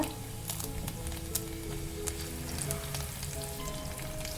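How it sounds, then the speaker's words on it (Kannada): Mustard seeds, cumin, garlic and curry leaves sizzle and crackle in hot oil for a North Karnataka dish, with a steady close frying hiss and scattered sharp pops, no voices. "ಸಾಸಿವೆ ಜೀರಿಗೆ ಚಟಪಟ ಅಂದಂಗೆನೆ ಸ್ವಲ್ಪ ಬೆಳ್ಳುಳ್ಳಿನ ಕಟ್ ಮಾಡಿ ಹಾಕೊಂಡಿರೋದು"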